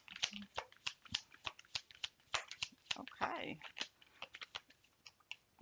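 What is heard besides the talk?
shuffling playing cards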